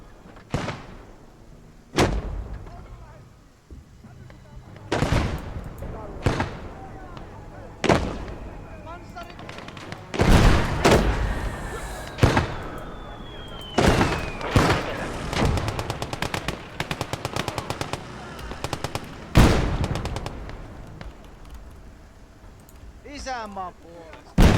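Heavy artillery blasts and bursts of gunfire in the World War II video game Blood Red Snow, with loud booming impacts, sharp shots and rattling fire repeating throughout, over ongoing battlefield noise.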